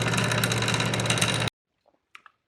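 A Clatronic KM2718 kitchen machine motor with a noise fault runs loudly and steadily up close, a buzzing whine that cuts off abruptly, followed by a few faint clicks in silence.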